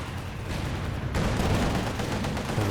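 IL-2 Sturmovik aircraft strafe the ground in Company of Heroes 2, producing dense, continuous rattling gunfire with heavy booming impacts that swell louder midway.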